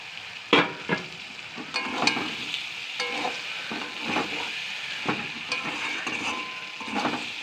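Fried chicken pieces are stirred in a hot pan with chili powder, giving a steady soft sizzle broken by scraping and clinking strokes from the spatula. The sounds are close and moderately quiet, with no voices.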